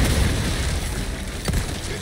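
Bomb blast in Resident Evil 4 Remake, a brief muffled boom near the middle of a dense rumbling game mix that stays loud throughout.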